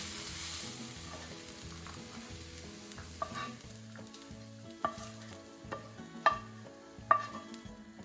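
Mushroom masala for an omelette sizzling in a pan and mixed with salt and red chili powder, a soft steady fry under light background music, with a few sharp spoon taps and scrapes against the pan.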